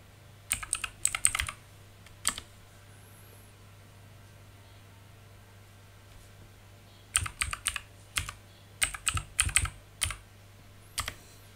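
A password being typed on a computer keyboard, quick clusters of crisp key clicks in two bursts separated by a quiet pause, over a faint steady electrical hum.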